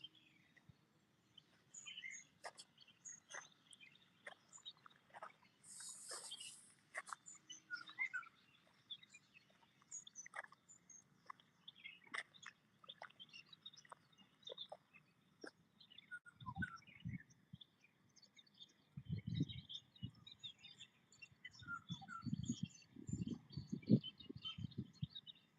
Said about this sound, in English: Listen to the bird sound.